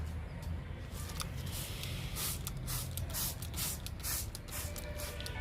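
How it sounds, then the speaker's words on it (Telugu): A hand spray bottle mists liquid onto a bougainvillea plant in quick, repeated hissing squirts with an even pumping rhythm, close and fairly quiet. "ఇప్పుడు కాగితం పూలకి స్ప్రే చేస్తున్నా."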